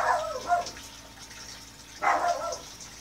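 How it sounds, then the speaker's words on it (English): Dog barking indoors: two short bursts of barks a couple of seconds apart, moderately near, over a quiet background hum. "My dog barking, I don't know why."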